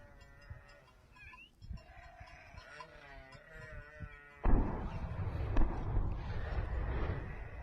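Goats bleating in combat footage from Syria: several wavering animal cries over a low rumbling background, followed by a sudden louder burst of broadband noise that persists to the end.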